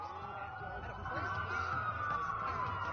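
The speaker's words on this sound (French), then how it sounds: "Ça fait beaucoup de sirènes pour une coupure" Police sirens in the video game Watch Dogs wail in the distance, a rising and falling tone over low rumbling background noise, fairly faint.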